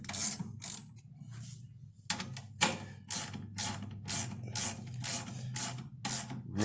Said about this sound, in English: Really nice ratchet, man.